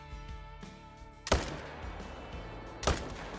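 Two rifle shots fired at a deer herd while hunting in theHunter Call of the Wild, sharp single cracks about one and a half seconds apart over quiet ambient background.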